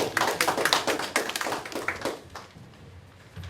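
Applause from members in a provincial council chamber during introductions of officials, a burst of brisk clapping that fades away after about two seconds, leaving quiet room tone.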